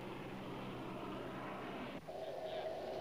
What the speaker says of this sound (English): the Nimrod, with jet engines and associated jet noise,